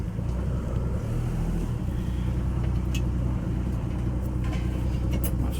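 An old Chevrolet C10 pickup, long abandoned in a forest, drives along after a transmission repair, its engine a steady loud rumble with road noise throughout and no pauses.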